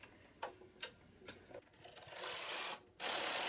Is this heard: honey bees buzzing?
no